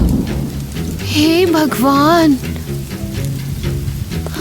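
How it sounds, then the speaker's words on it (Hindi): Rain falls with a rumble of thunder in an animated scene, a steady wash of rain under a low roll, while a voice gives a sung, rising and falling exclamation over it. "ओ, बारिश।"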